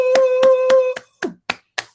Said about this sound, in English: Let's give it a round of applause for Adarius Simpkins